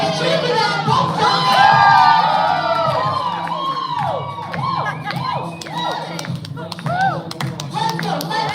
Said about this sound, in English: Come on, guys, cheer for them.